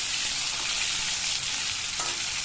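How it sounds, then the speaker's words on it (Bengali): Aubergine slices sizzle steadily in hot oil in a pan, a dense, even frying hiss that runs unbroken throughout with no voices. "এর মধ্যে বেগুনটা দিয়ে দিলাম একটু ভাজা ভাজা করে তুলে রেখে দেবো"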